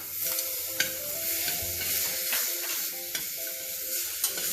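Chopped tomatoes stirred and sautéed in a hot pan for a cracked wheat and split moong dal khichdi, with a steady sizzle, scraping spoon strokes and a few sharper clinks, close and continuous, no voices.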